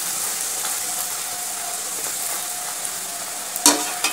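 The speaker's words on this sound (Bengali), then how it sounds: "এবার এটাকে আমি তেলের মধ্যে দিয়ে দেবো। তেলের মধ্যে দিয়ে দিচ্ছি" Puri (luchi) dough frying in hot oil, a steady close sizzle running throughout, with a sharp brief crackle or clatter near the end.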